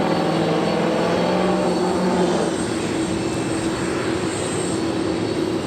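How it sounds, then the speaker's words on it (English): An airliner in Toontown livery rolls down runway 25 right at LAX, a strong, sustained engine drone with tonal whine shifting partway through as it accelerates, close and loud. "I also have the Toontown livery rolling down at 25 right."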